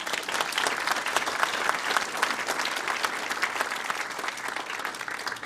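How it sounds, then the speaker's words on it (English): Steady, dense applause from an audience at a police foundation event in Gardena, holding at an even level for several seconds with no speech over it. "Give them a big round of applause"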